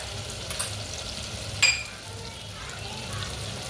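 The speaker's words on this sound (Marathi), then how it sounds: "टोमॅटो छान परतला जातोय" Chopped tomato sautés in a pan with a soft continuous sizzle and light stirring scrapes, one brief clink of the spatula partway through, close and steady.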